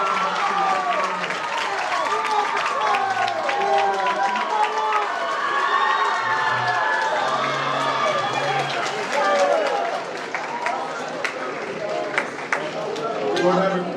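A crowd at a speech and debate tournament finals applauds and cheers for cross-examination finalists, steady clapping mixed with loud chatter and voices throughout.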